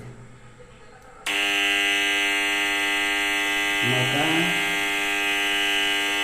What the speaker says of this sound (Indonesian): buzzer dari genset ini akan berbunyi seperti ini contohnya